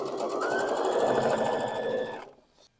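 A sewing machine runs steadily for about two seconds while stitching quilt borders, a loud continuous mechanical whir that ends abruptly, leaving near silence.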